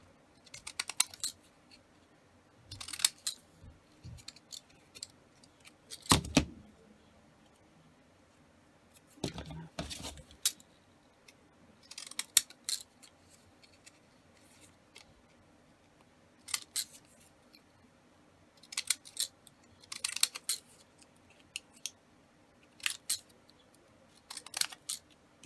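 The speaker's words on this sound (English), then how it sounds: "cut them with the scissors or your ruler, or you can rip them" Scissors snip through sheets of paper for a collage journal page, a series of separate crisp cuts spaced by quiet pauses, close up.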